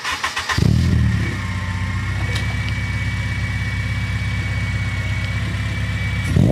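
A Honda Civic Type R EP3 engine catches with a brief burst, then settles into a loud, close, steady idle with a rapid pulsing beat and no talk.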